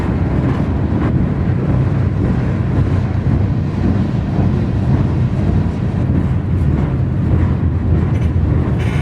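A steady, loud rumbling roar of a freight train rolling past in New England continues without a break, heavy low-frequency clatter mixed with wind buffeting the microphone.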